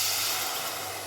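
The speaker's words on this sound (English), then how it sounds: "I'm going to drop in the milk now" Milk poured into a hot pan gives a steady, broad sizzling hiss that stays loud for the whole moment and fades only slightly at the end.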